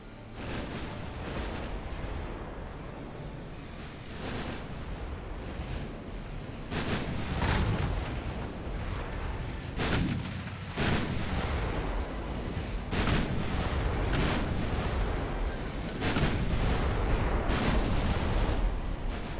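Warship main guns firing in the naval battle game Ultimate Admiral: Dreadnoughts, a series of heavy booming salvos spaced irregularly over a continuous rumbling battle ambience, loud and without talk.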